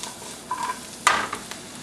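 Carrots sauté in a pan with a soft, steady sizzle under short scraping stirs and a couple of brief metallic utensil strokes, close up and without speech.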